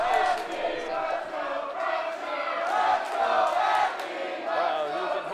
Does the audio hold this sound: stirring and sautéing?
no